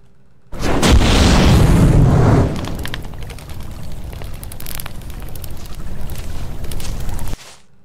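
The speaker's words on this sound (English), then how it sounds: "wherever your mouse is, you will cause an explosion, basically" A pyrokinetic outburst power in The Witches Destiny sets off a loud, booming explosion with a sharp onset, followed by a long crackling, rumbling fiery tail that fades and holds steady for several seconds.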